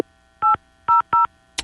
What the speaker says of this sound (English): Here I am dialing the number.